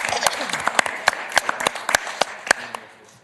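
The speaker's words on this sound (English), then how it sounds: "we can clap another time" Scattered, uneven claps ring out at a county board meeting, individual sharp hand claps spaced irregularly rather than a full ovation, tapering off at the end with faint voices underneath.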